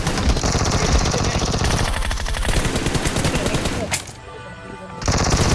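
Rapid automatic gunfire from the PUBG Mobile battle royale game, loud and dense, with bursts running almost continuously and a brief lull before the shooting resumes.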